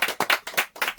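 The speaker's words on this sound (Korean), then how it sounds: "여러분 박수 부탁드리겠습니다" A small audience at a late-night interview session claps in rhythm, four or five distinct, close, crisp claps in quick succession without speech.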